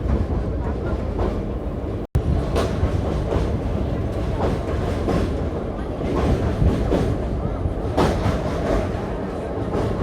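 The Pinakini Superfast Express rolls along the rails between Chennai and Vijayawada, a continuous loud rumble with rhythmic clickety-clack beats heard from inside the carriage, a voice faintly present at times.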